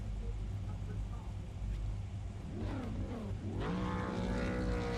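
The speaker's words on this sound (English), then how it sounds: "hear their engine starting to rev" V8 Supercar engines in a racing simulator at Sandown, several cars revving on the grid before a heat start, rising and falling engine tones building toward the end over a low rumble, with faint talk underneath.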